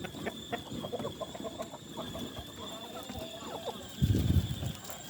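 Chickens and roosters in a coop cluck and shuffle steadily at mid distance under a person's talk, with a louder burst of flapping and movement near the end.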